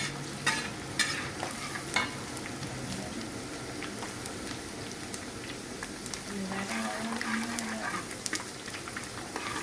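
Ingredients sautéing in a pan on the stove, with a steady low sizzle and scattered scrapes and knocks of a stirring spoon against the pan, continuous and fairly close.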